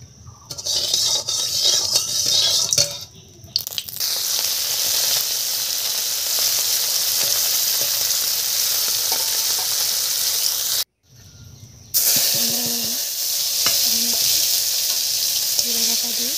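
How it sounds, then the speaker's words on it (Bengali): Turmeric-coated fish frying in a wok give a loud, steady sizzle with stirring scrapes. The sizzle carries on almost unbroken, with two brief dips near the start and one short gap near the end. "এবার আমি মাছটা কড়াইতে ভেজে নেব।"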